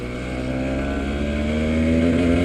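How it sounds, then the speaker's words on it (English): A 2009 Cagiva Raptor 125 motorcycle engine runs steadily during a road test, a loud continuous drone that climbs slightly in pitch as it gathers speed, with wind noise behind it. "Today I've got for you a 2009 Cagiva Raptor 125"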